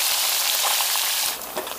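Loud, dense sizzle of tilapia frying in hot oil outdoors by a riverside, a continuous crackling hiss that eases slightly toward the end with a few soft knocks.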